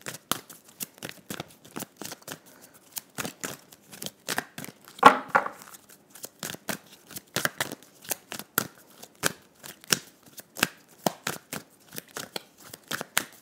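Tarot cards being shuffled and drawn, a steady run of crisp riffling snaps and soft flicks close up, fairly quiet and with no talking.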